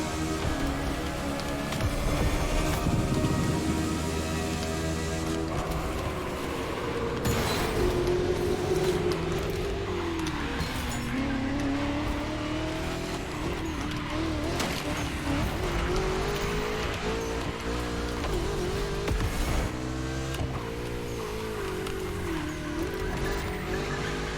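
Hypercar engine in a racing video game, a continuous loud roar with rising and falling pitch as the car shifts and accelerates, mixed with tire squeal and skidding noises throughout.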